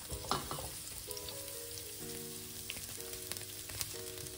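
Onions sizzle and fry in oil in a saucepan, a soft crackling bed with a steady tonal hum in the background.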